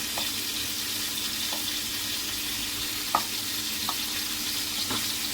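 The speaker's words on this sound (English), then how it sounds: "There's quite a bit of oil in there, so we want that to sizzle up." Oil sizzles steadily in a pan with a constant bright hiss, punctuated by a few small pops and clicks.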